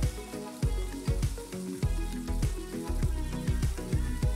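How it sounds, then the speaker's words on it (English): Pork chop dropped into hot grapeseed oil in a pan over medium-high heat, giving a loud, steady frying sizzle with repeated crackles and pops throughout, no talking. "Once our oil is heated up, we're gonna throw in our pork chop."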